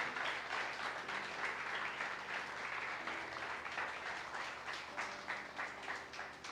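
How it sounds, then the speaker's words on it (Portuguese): A church congregation claps in praise during a service, a soft, continuous patter of many hands lasting several seconds, somewhat distant and low in level, with a sustained tonal hum lying under the clapping. "Dê uma salva de palmas ao Senhor por isso."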